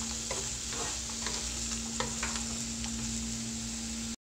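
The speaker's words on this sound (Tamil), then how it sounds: "முள்ளங்கி ஆட் பண்ணதுக்கப்புறம் நல்லா ஒரு தடவை வதக்கிக்கலாம்." Grated radish sautés in a pan for a Tamil radish chutney, a steady close sizzle and frying hiss with light stirring scrapes throughout, cutting off briefly near the end.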